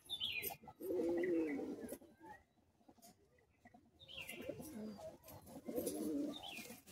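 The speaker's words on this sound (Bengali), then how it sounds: "পায়রা বডিটি দেখুন," Madrasi high-flying pigeons, a Kolkata breed, cooing close by in repeated throaty, rolling phrases separated by short quiet gaps, with a few faint chirps in between.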